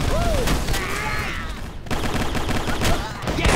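Gunfire in the online shooter Microvolts, rapid bursts of shots layered with game effects and music, loud and continuous, with someone talking over part of it.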